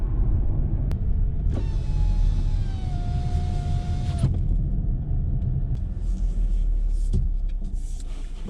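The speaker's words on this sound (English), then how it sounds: "Let's see how long it's gonna take it to reach 100 kilometers an hour." Inside a 2020 VW Polo as the car accelerates, a deep, steady engine rumble fills the cabin, with a faint rising whine partway through and a few light knocks.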